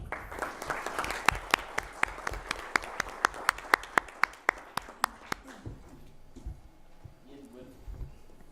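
A sparse few people in a university lecture hall clap in a slow, steady rhythm, each clap distinct and fairly close, the clapping fading out after about five seconds into quiet room noise.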